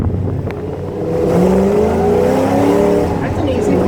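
A 2007–2010 Mustang GT500 engine accelerates hard with the windows down, a loud, rising exhaust roar building from about one second and holding strong to the end, with a brief voice near the start.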